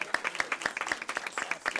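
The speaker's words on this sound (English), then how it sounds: "please join me in another round of applause in our Transportation Apprentice Program graduates" A small gathering at a school board meeting claps for graduates of a transportation apprentice program, with quick, distinct individual handclaps in a brief, fairly close burst of applause.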